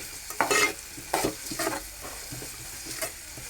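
Onion being sautéed in a pan until browned, a soft sizzle beneath a few distinct spatula stirs and scrapes, fairly quiet and close.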